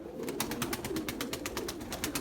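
Tumbler pigeons flying on a windy day give a quick, evenly spaced series of soft pulses, fairly faint and with no voices.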